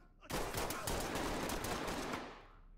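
Rapid automatic gunfire crackles in a police shooter game, a dense burst of close, loud shots lasting a couple of seconds before trailing off.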